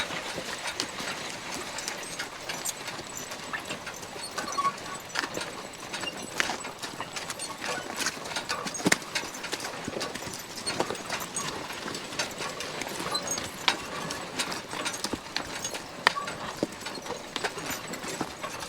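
Draft horses pull a spring-tooth harrow along a driveway, their hooves clopping in a busy, irregular rhythm with rattling and scraping over a steady low rumble the whole way through.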